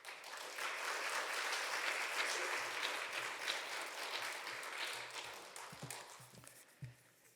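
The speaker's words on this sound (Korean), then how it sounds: "이제 김철우 목사님 나오실 때 여러분 박수로 환영해 주시면" A church congregation at a Sunday service applauds to welcome the pastor, sustained dense clapping from many hands that fades out toward the end, with a few low knocks at the close.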